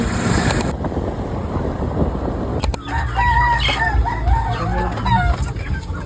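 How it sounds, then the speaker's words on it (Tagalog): A rooster crows nearby at a rural spot, a loud drawn-out call with rising and falling tones, following a stretch of steady broadband noise. "Chicken."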